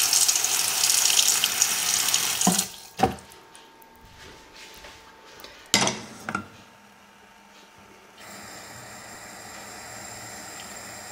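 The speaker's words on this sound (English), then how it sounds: "add a bit of water." Water splashes into a soup pot of sweated vegetables, lettuce and fennel, a brief hissing pour at the start, followed by a few sharp clunks and quieter kitchen rustling, then faint steady background hiss.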